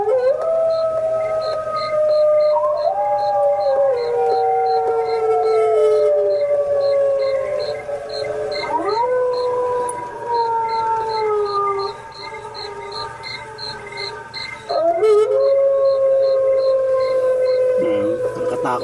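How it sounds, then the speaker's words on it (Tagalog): Long, wavering howls rise and fall repeatedly near a cemetery, several drawn-out mournful glides layered over one another, loud and close, with a faint regular chirping pulse behind them. "Nakatakot naman yung ano na yan, alulong na yan."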